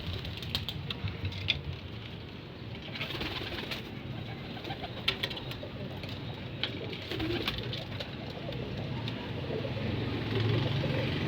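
Pigeons cooing in a loft before a race toss, soft repeated coos among scattered wing flutters and small knocks, with faint background noise.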